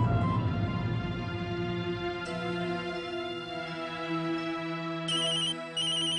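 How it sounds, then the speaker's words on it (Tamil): A phone ringtone plays a continuous electronic melody of bright sustained tones, fairly loud and steady for about six seconds, with no voices over it. "அட, அம்மா ஃபோன் பண்றாங்க."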